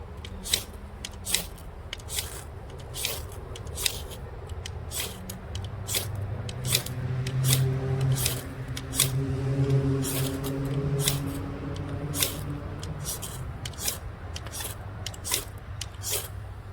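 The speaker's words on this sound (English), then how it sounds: "Let's see if we can scrape our fat wood down to a little bit finer." A Condor Mini Duku knife scrapes fat wood into finer shavings, a long series of crisp, rhythmic scraping strokes close up, with a low hum in the background.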